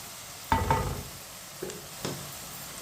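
Spices cook in oil over low heat in a pan, a soft continuous sizzle broken by a few brief stirring scrapes and faint knocks nearby.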